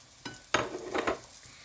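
Curd cheese pancakes cook in a frying pan with quiet sizzling and a few soft scraping, turning sounds, heard close and fairly faint with no talking.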